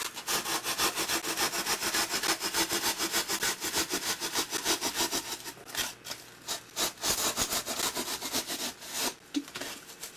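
Hacksaw blade cutting through foam to build a wall for 40K rubbled-building game terrain: fast, close, rhythmic rasping strokes in a steady back-and-forth run, briefly pausing, then picking up again, with no talking.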